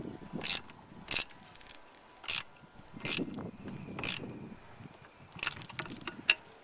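A 1/2-inch wrench tightens a nut while mounting hardware: several short, sharp ratcheting clicks come in bursts over soft handling noise, close and fairly loud, with no speech.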